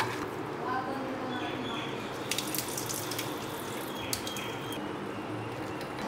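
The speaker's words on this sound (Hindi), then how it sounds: "अब मैं इनको एक बार टैप वाटर से धो लेता हूँ।" Tap water runs steadily into a bowl as 60 grams of soya chunks are washed, a continuous splashing rush with some brief clinks and squishy handling sounds near the microphone.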